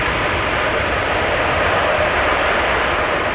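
A jet airliner at Amsterdam Schiphol Airport makes a loud, steady broadband engine roar that stays nearly constant throughout as it spools down, with no voices.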